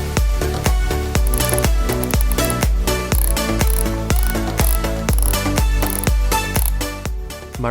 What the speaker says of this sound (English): the cheap plasticky sound of all of these really, really inexpensive cameras